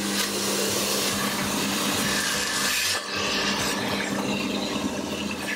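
A loud, steady vacuum cleaner motor drones continuously, with a brief dip in the middle before it resumes at full strength.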